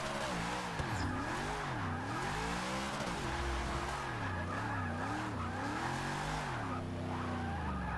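A NASCAR stock car in Forza Motorsport 6 drifting and spinning out into the grass, its engine revving and wavering up and down loudly and continuously under steady tire squeal.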